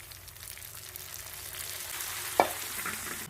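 A tempering of green chillies, garlic, onion and curry leaves frying in a pan for dal, a soft continuous sizzle rising slightly, with one sharp pop or tap near the end; no talking.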